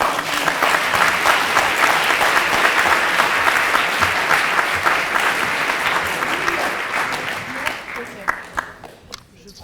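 Sustained audience applause fills a debate hall at the final of the Coupe de France de débat, dense clapping from a large crowd that thins and tapers toward the end.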